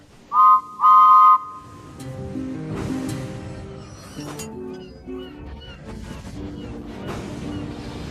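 Stanley the little engine gives two short, loud tonal toots of his whistle right at the start, followed by music and busy background sound.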